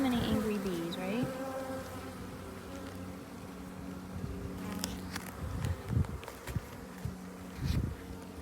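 Disturbed honeybees in an opened hive give a dense, continuous angry buzz close by, with occasional knocks and shuffles as the hive is handled.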